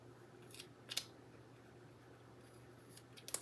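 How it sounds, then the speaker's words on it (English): Scissors trimming orange tape, a few sharp snips: one pair around the first second and another cluster near the end, quiet and close with a faint background hum. "we're gonna have to trim it, so might as well do the whole thing, and this will leave your scissors a mess."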